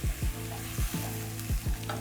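Garlic and onions fry in a pan for a Kenyan-style goat wet fry, giving a steady close sizzle with low, repeating thudding tones underneath.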